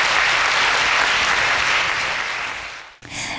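Audience applause at a university matriculation ceremony welcoming the president, a loud, dense, sustained clapping that gradually fades, cuts off abruptly near the end, then resumes briefly.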